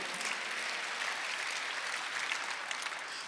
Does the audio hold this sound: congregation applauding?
yes